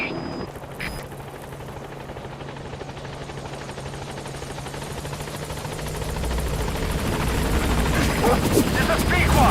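Helicopter rotor thrum from the Metal Gear Solid V game as the aircraft comes in toward a landing zone, a steady broadband chop that builds louder toward the end, with a voice talking over it.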